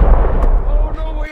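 Airstrike explosions in the Gorilla Tag video game: a dense, heavy booming rumble that stays loud and continuous through the short stretch before cutting off abruptly.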